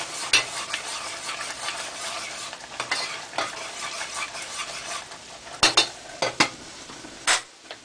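Grits stirred in a pot on the stove, a steady scraping swirl with soft sizzle beneath and several sharp spoon clinks against the pot rim, close and fairly loud, no talking.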